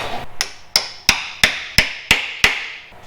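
A hammer drives a chisel to break the seal on a stuck pre-made bumper. Eight sharp metallic strikes land at an even pace, about three per second, loud and close, each leaving a short ringing tail.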